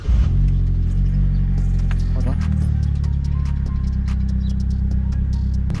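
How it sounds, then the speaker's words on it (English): A car engine cranks and catches after a spark plug change, then settles into a steady, loud, low idle rumble with a brief rev as it starts. "let's just let the engine run for a little bit"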